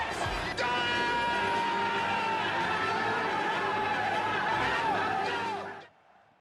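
A crowd cheering and roaring during an indoor soccer game, Baltimore Blast against Orlando SeaWolves, with loud amplified hype music blaring over the arena noise before it cuts off abruptly near the end.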